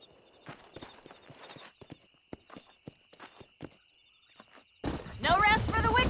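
Horse hooves clip-clop at a walking pace in Red Dead Redemption, a sparse run of distinct thuds over a faint tonal background, then a louder burst of sound takes over near the end.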